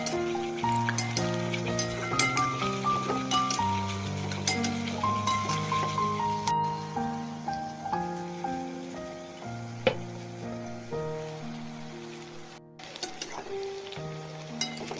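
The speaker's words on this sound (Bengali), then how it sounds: "তারপর দিয়ে দিলাম পেঁয়াজগুলো বেশ ভালো করে লাল লাল করে ভেজে নেব" Chopped onions fry in hot oil in a wok (kadai) seasoned with black cumin (kalo jeera), a steady sizzle running under loud background music.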